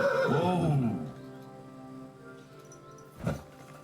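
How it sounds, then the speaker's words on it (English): A horse in the video game Kingdom Come: Deliverance gives one loud, close whinny that trails off, followed by quiet and a short snort or stamp. "We got a horse to ride."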